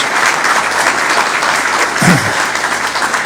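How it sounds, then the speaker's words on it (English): Crowd at a state groundbreaking ceremony gives loud, sustained outdoor applause, a dense continuous clapping with a brief voice or cheer in the middle. "Let's give Leslie a big round of applause"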